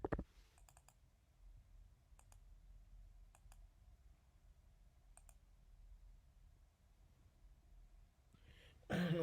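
A computer mouse clicks a few sharp, isolated times while software is installed on a Mac, faint and close in a quiet room, with a louder handling noise at the very end.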